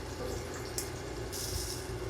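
Two medium beaten eggs are poured slowly into a pan of sarciadong bangus over low heat, giving a soft, steady liquid trickle under continuous background noise.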